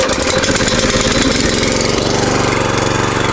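A garden cultivator's small engine runs steadily between vegetable rows with its choke closed, a continuous close mid-pitched chugging idle with a rapid knocking pulse and no voices.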